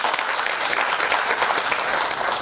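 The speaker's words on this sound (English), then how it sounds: "A big clap to the girls there" Dense, steady applause from a crowd at a live event on teen pregnancies in Kenya, cheering girls at a table, continuous and loud throughout with no gaps.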